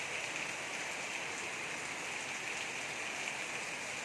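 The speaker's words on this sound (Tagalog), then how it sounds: "Ayan po, malakas na po ang ulan." Heavy typhoon rain from Tropical Storm Crising in the Philippines pours down in a steady, dense hiss with no letup, loud and close with no voices.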